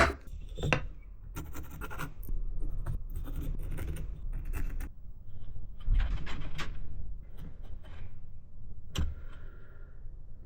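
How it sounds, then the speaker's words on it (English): A pencil marks dovetail layout lines on wood in several short scratchy strokes, close and quiet. Occasional knocks and handling sounds come from the workpiece between the strokes. "I'll probably mark all with a pencil first"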